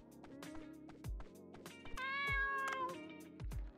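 A cat in the video game Dave the Diver gives a clear, tonal meow over a pattern of soft game clicks and thumps, the meow rising and falling near the middle of the short clip.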